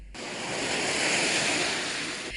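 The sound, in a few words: ocean waves breaking on a beach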